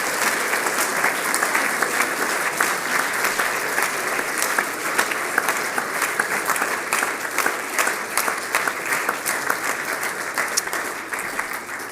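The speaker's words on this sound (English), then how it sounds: "So if we could put our hands together and give all these projects a round of applause." An audience at a school's end-of-term assembly claps steadily for about twelve seconds, a dense and even round of applause heard from within the hall.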